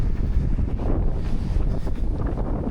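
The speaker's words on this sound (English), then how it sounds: "Right now, it is pretty windy." Strong wind on a beach in El Salvador roars steadily across the microphone, a loud continuous rumble with gusty buffeting and no voices.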